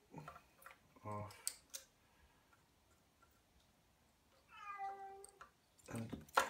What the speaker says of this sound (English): the cat wants to go out